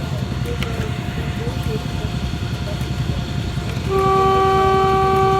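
A train at a station rumbles steadily amid crowd murmur, then its horn blares loudly and close for the last second and a half, sustaining a strong tone.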